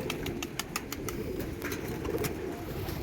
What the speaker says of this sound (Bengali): এই পায়রা নেমেছে এখানে